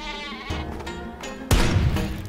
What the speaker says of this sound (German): Versuchen wir es auch mal mit Schaf hier.